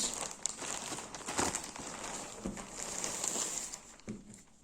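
Plastic bag crinkling as a wrapped gift is unpacked, with quiet, irregular rustles and crackles at close range, and no talk.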